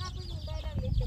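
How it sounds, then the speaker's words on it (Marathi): Chickens roaming free around a village house, with soft clucks and short calls over a low, steady outdoor background, close by and moderately loud, with faint voices nearby. "हा इकडं कोंबड्या हिंडतात."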